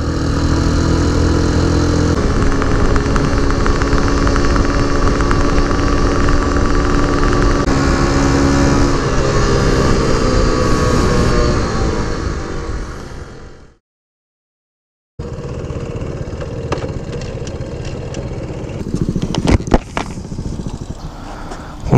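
A Honda Super Cub-type moped engine drones loud and steady while riding, fades out briefly into silence, then returns with rattling and wind noise.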